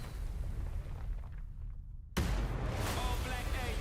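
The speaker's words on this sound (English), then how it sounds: "Did he just catch a rocket? He got a rocket." A rocket in a video game explodes in a sudden loud, broad blast that cuts in after a quieter stretch and keeps rumbling with debris to the end, while voices talk over it.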